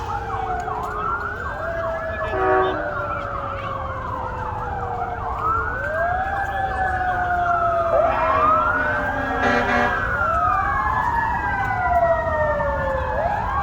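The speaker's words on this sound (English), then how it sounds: "they had quite a few fire engines and fire vehicles" Fire engine sirens wail and whoop in overlapping rising and falling sweeps at a Christmas parade, moderately distant, with traffic rumble beneath.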